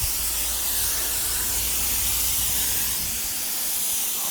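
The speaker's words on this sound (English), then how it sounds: "Just get a nice misting." Steady hiss of a sprayer misting UV protectant over brand-new outdoor furniture, a continuous close, even spray with no pauses and no voices.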